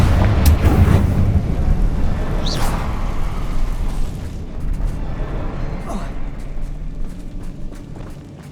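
A Confringo fire spell exploding in the game Hogwarts Legacy: a heavy, loud rumbling blast at the start that fades into a long, sustained roar with a few sharp pops and crackles.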